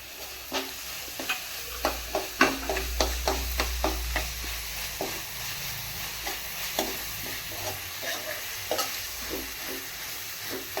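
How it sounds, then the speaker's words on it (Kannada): Finely chopped green chillies and ginger fry in hot oil for a palak paneer gravy, a steady sizzle and hiss punctuated by repeated scraping stirs of a spatula against the pan, close and without talk. "ಸಣ್ಣಗೆ ಹಚ್ಚಿರೋದು ಮೆಣಸಿನ್ಕಾಯಿ, ಶುಂಠಿ ಇದೆರಡೂ ಹಾಕಿ ಸ್ವಲ್ಪ ಫ್ರೈ ಮಾಡ್ಕೊಳ್ಳಿ"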